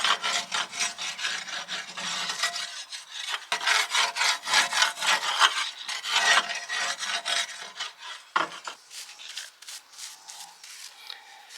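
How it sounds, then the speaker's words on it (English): A metal scraper rasps and grinds inside the flue pipe of a narrowboat stove, the chimney in poor condition, producing rapid, repeated rough scraping strokes, close and steady, with brief pauses between bursts. "I can get a long way down with this scraper,"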